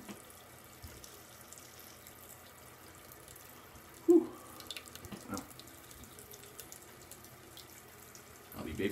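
Under a running water tap, a razor is rinsed during a shave with a box cutter, giving a faint steady water hiss with a couple of brief louder splashes and clinks close by.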